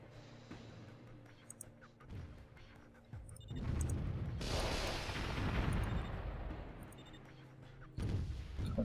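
Tanks firing in the strategy game Warzone 2100: dense, rumbling bursts of cannon and battle noise that swell into a sustained roar, with sharper distant booms scattered through.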